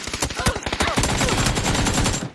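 A rapid automatic burst of video game gunfire with recoil, dense and continuous, loud and close, ending abruptly after about two seconds.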